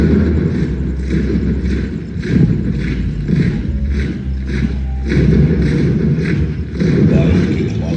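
Gunpowder explosion effects boom through a light and sound show at Jhansi Fort recreating the 1858 British attack, with loud, continuous low rumbling and repeated heavy thuds that swell and recede.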